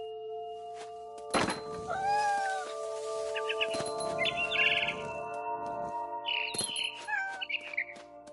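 Several synthetic-sounding cat meows and chirps in the video game What Remains of Edith Finch, over a steady electronic hum, with a couple of sharp thuds between them.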